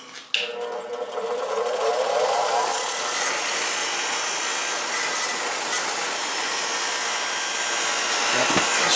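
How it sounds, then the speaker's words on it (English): A brass wire wheel spins against a corroded banjo head ring, a loud steady whirring motor drone with gritty scrubbing that holds throughout, close up and with no talking. "I'm just going to go ahead and hit this with the brass wire wheel."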